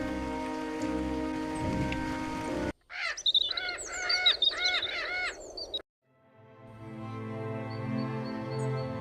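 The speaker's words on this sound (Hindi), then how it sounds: "अरे बेटी देखो, बारिश अच्छी हो गई है।" Steady rain patters on a surface, interrupted midway by a few seconds of birds chirping, then the rain returns.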